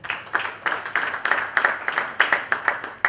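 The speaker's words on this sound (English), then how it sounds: "I would implore the delegates to give you another round of applause" Meeting delegates at a football super league annual general meeting give a round of applause, steady rhythmic clapping from a crowd, close and fairly loud.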